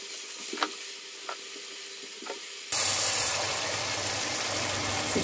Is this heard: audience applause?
no